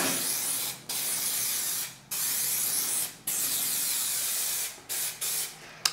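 Liquid waterproofing sealant spraying in a bathroom, a loud steady hiss broken into four or five bursts by short pauses, close and alone without talk.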